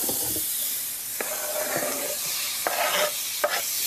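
Big chunks of vegetable, a deseeded pepper, land in a hot skillet with a steady hiss, and several short scraping strokes from stirring come through.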